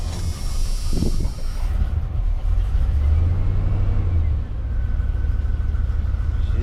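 An old truck engine, parked for nearly 20 years, turns over and catches, then settles into a loud, close, rough rumbling idle with some hiss.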